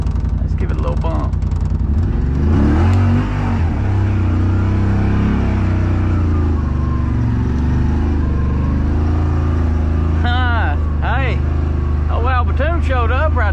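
Engine of a Yamaha Rmax 1000 side-by-side rumbling steadily up close, with a brief throttle bump swelling the drone before it settles, and someone talking over it near the end.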